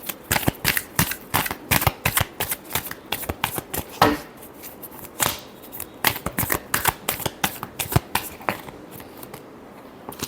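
Tarot cards shuffled by hand in a rapid run of crisp riffling slaps, pausing around the middle and then resuming in short bursts, close and fairly quiet.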